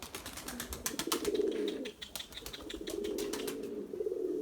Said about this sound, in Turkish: Bakın arkadaşlar kaç tane kuş var havada bakın bakın.